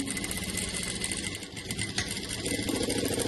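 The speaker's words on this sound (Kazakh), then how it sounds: "Мінекей 9 сантиметрлік кезлемемізді тігіп атырмыз" A sewing machine stitches a 9 cm fabric strip for patchwork, a fast continuous mechanical whirring chatter running steadily and close for the whole stretch.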